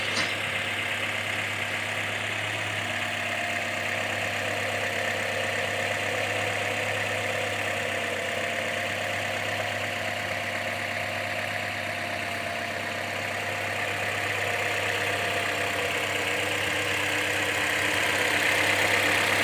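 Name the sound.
taxi car engine idling under the hood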